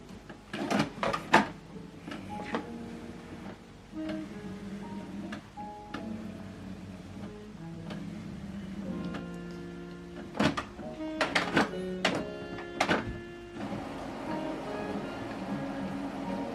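An Epson XP-5150 inkjet printer works through its initial setup, giving off a series of whirring motor runs, clicks and sharp mechanical clacks in irregular bursts, close and moderately loud, with no talking.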